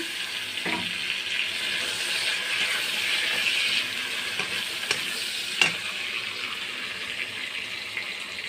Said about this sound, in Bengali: পেঁয়াজ কুচিগুলো সুন্দর করে ভেজে নেব লাল লাল করে